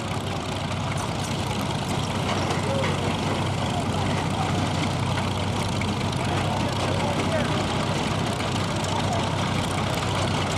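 A 1903 Spooner giant steam traction engine, the Eliminator, runs short on steam pressure with a steady low chugging drone. A voice talks over it throughout.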